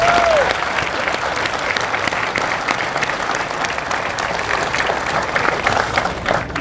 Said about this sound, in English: Let's everyone give everyone a big round of applause.